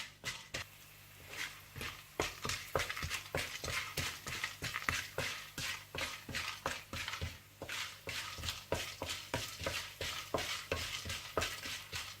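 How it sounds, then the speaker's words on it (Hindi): Kamarkas frying in ghee for panjiri is stirred with steady, rhythmic scraping strokes over a soft sizzle, close and continuous throughout. "फिर इसी घी में आप कमरकस भी इसी तरह से फ्राई कर लीजिएगा"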